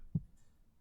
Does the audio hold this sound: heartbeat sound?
yes